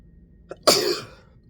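A single close sneeze: a short intake followed by a sharp, explosive burst that fades quickly, alone in a quiet room.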